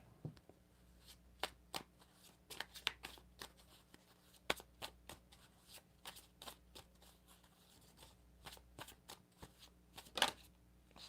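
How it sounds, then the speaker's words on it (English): Playing cards are shuffled close by in quiet surroundings, a series of crisp riffling snaps and flicks at irregular intervals. "Shuffle."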